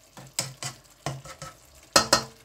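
Keema and onions for aloo keema are stirred and fried in a pan: about seven scraping, clinking spoon strokes with a light sizzle underneath, and the last pair is sharper and louder.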